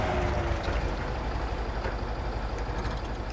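A truck's engine rumbles steadily in the off-road driving game Mud Runner, a constant low drone with faint high tones near the end and no talking.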